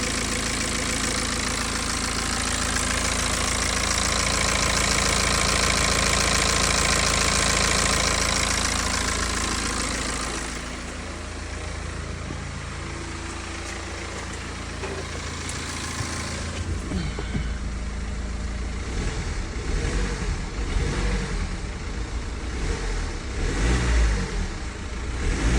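A BMW N47 diesel engine, freshly repaired after a broken timing chain, runs loud and close with a steady drone, then settles to a rougher idle with uneven blips of throttle toward the end.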